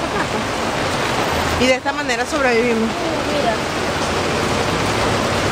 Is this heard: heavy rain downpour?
yes